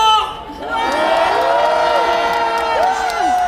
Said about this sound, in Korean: 윤석열 대통령님, 또 우리의 함성이 들리십니까?